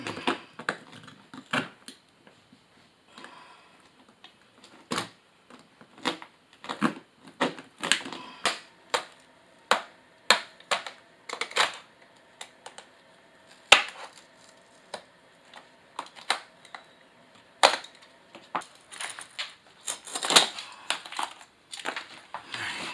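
Cutting a Schluter Ditra Heat uncoupling membrane for an electric floor heating install produces a series of sharp, crisp snips and crunching cuts, close and irregular, with quiet pauses between.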